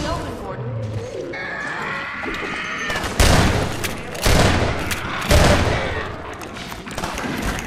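Gunfire from a weapon in the video game Half-Life 2 Episode 2, several loud bursts of shots around the middle and end, mixed with game effects and background noise.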